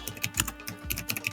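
Rapid clusters of keystrokes on a computer keyboard while a title is entered into a text box, crisp irregular taps in quick bursts, close and clear with no talking.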